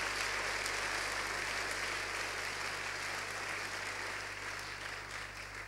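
A church congregation applauding during a Sunday service, a dense steady wash of clapping from many hands that fades slightly toward the end, with no talk.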